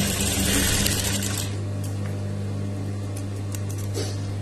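A sewing machine stitches cloth, giving a steady mechanical whir with a constant low motor hum and fine rapid needle ticking, loud at first and then settling slightly quieter, with no talk.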